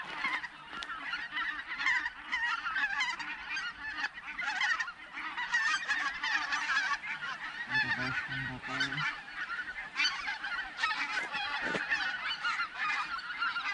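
A flock of geese flying to their roosts gives loud, continuous overlapping honking calls, dense and steady throughout, with a brief lower murmur partway through.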